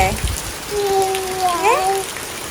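Steady rain hisses in the background while a high voice, likely a child's, makes a drawn-out sound over it.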